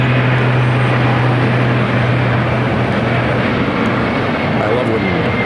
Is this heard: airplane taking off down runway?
yes